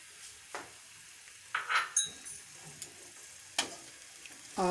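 Chicken Manchow soup with red chilli sauce and soy sauce being stirred in a hot pan, a soft sizzle under scattered utensil scrapes and taps, close and moderately quiet, with no talk.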